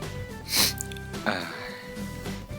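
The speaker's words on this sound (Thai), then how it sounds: "ขี้มูกฟุดฟัดฟุดฟัดจำขนแมว" A couple of short, sharp nasal sniffs from a runny nose caused by cat hair, close by, separated by a pause, with faint background noise.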